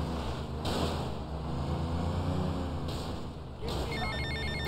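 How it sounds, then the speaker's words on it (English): A phone ringing in the video game GTA Vice City, repeated electronic ring bursts over continuous game background noise and driving rumble, fairly loud and steady with short gaps between rings. "I'm getting a phone call."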